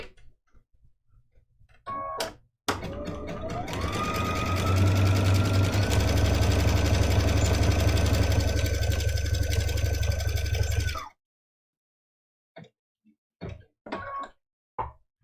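A sewing machine runs steadily for about eight seconds, stitching a scrappy Christmas stocking mug rug, a loud close whirring hum with a sharp clunk at the start, then short stops and brief taps after it halts.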